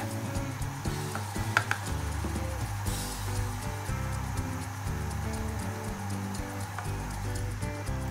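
Mutton biryani rice is stirred in a pot, making continuous scraping and stirring noises with faint sizzling and a few sharp clinks, close and steady.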